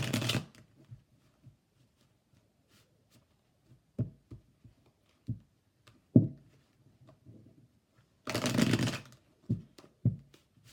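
Tarot cards shuffled by hand, sounding as scattered soft riffles and taps with longer bursts around 0.5 s and 8.5 s, close and quiet with no talking.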